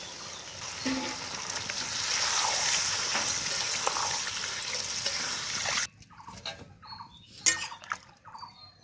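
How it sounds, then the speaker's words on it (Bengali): Water is poured into a pot of meat cooked down with ground spice paste, producing a loud, steady hissing sizzle for about six seconds that cuts off abruptly into quieter bubbling and a few clinks. "এখন জল দিয়ে দেবো"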